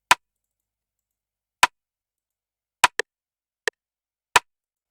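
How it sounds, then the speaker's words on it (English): A rimshot sample from an FL Studio beat, used as the snare, strikes six times as dry, sharp clicks. The hits are spaced irregularly in a sparse pattern and play alone with no other sound. "The next thing was the Rimshot, which acts as a snare in the song."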